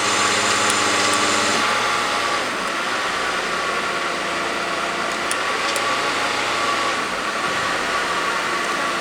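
Electronically activated throttle bodies on a Mercedes S600 engine, being repaired off the intake manifold, give a steady mechanical whir over a running engine, with faint clicks as the valves open and close.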